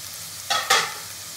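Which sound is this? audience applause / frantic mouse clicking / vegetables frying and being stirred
vegetables frying and being stirred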